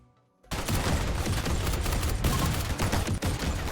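Sustained, dense video-game gunfire erupts after a brief quiet moment, pouring out suppressive fire as a loud, continuous volley of overlapping shots with no talking.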